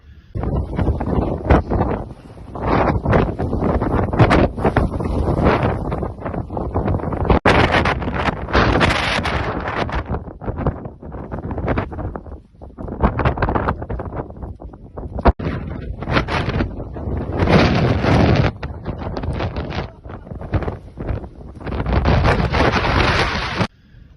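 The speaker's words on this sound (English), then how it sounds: "there were times I had to stop completely because the wind was so bad" Strong wind high on Mt. Fuji batters a microphone, producing loud, roaring buffeting in repeated long gusts with brief lulls between them; no one speaks.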